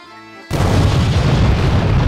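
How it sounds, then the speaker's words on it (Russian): A bomb explodes in the VR puzzle game Keep Talking and Nobody Explodes: a sudden loud boom after a quiet half-second, followed by a sustained roaring rumble that fills the rest of the clip. "Я слышал взрыв."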